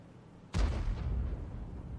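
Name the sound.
tank shots hitting in video game World of Tanks, Object 261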